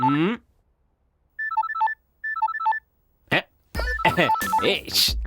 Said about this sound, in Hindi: सर आपका फोन बज रहा है।